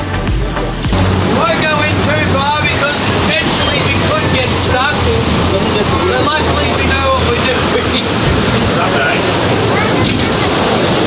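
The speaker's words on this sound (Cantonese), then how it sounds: "Watch the wave roll on through." Ocean waves roll through near a rocky sea cave off South Bruny Island, Tasmania, heard from a boat as a loud, continuous wash and surge with a heavy low rumble and wind buffeting the microphone.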